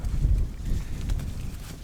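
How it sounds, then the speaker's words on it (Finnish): Strong wind buffets a camp on the shore of a wilderness lake in Finnish Lapland, a steady low rumble and roar with gusty swells, close to the microphone and without talk. "Sitten katso, tuosta aika hirvittävä tuuli on taas, mutta sen pitäisi kaiketi rauhoittua iltaa kohden"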